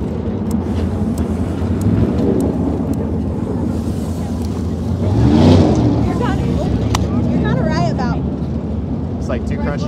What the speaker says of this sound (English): Sounds like a push truck.